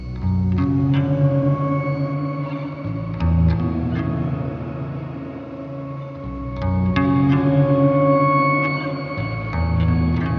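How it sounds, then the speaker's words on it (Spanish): Electric bass run through a simulated guitar reverb pedal with a shimmer setting, sustained notes blooming into a wide, echoing wash with bright upper tones, several phrases played alone without talk. "Veamos qué tal se comporta una simulación de un pedal de reverb que fue diseñado para guitarra. Que por cierto, tiene un shimmer que suena muy bonito."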